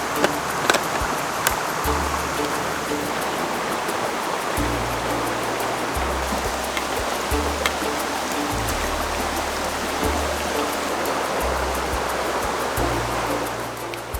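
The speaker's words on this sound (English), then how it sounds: "I was attracted by the sound of water" Water flows over a dark mossy rock in a rainy woodland, giving a steady, even rush that holds unchanged throughout with a low hum beneath and no voices.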